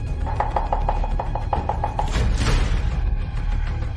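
Rapid knife chopping of ingredients by a village cook, a run of about a dozen quick, even blade strikes on a board over steady background ambience, then fading into a general rush.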